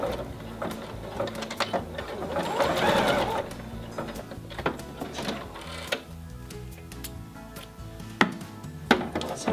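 A sewing machine hems the stretchy sleeve of a baby onesie, running in close, rapid bursts of needle stitching with brief pauses and small clicks between runs.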